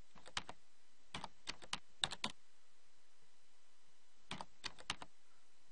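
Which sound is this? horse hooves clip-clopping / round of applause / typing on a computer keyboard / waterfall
typing on a computer keyboard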